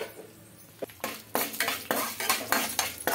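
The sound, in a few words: chana dal and urad dal frying in oil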